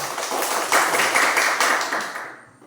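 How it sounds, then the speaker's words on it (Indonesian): A classroom of students performs a rhythmic spirit clap, quick patterned bursts of many hands clapping together at close range, building briefly and then stopping abruptly into near silence. "Oke, tepuk semangat dulu."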